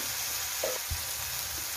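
Dried baby prawns roast in a pan with a constant, moderate sizzle and a couple of soft stirring knocks, with nobody talking.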